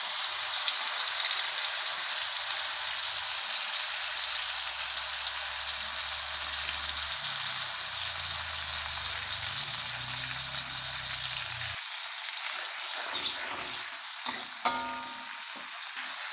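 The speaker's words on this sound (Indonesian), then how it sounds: "Kita tumis sejenak sampai harum." Ground spice paste for seblak fries in hot oil with a strong, steady sizzle that stays close and loud throughout, later broken by a few soft clatters and stirring knocks.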